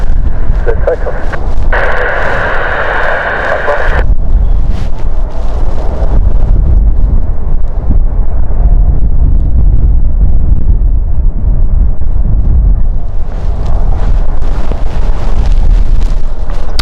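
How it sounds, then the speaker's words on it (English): Jet airliner on its takeoff roll at London City Airport, bound for Zurich: a loud, sustained engine roar, bright whine early then a steady heavy rumble, close and continuous under wind buffeting the microphone. "Taking off at the moment is the Zurich flight, and here we go."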